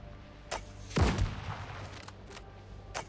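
Gunfire in the video game Windrose: one heavy shot rings out with a short rumbling tail, framed by a couple of sharper, fainter cracks at a distance, and no voices.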